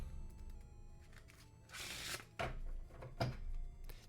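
A deck of cards being riffle shuffled, a quick burst of fluttering card noise followed by two sharp taps as the deck is squared, close and quiet.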